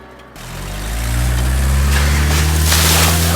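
A turbo diesel sport boat engine starts after a brief quiet moment and settles into a loud, deep, steady drone that builds slightly, with a hissing rush of air and water layered on top.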